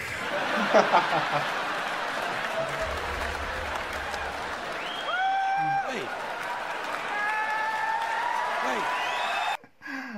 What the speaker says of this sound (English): It's amazing how the crowd is just going wild on this.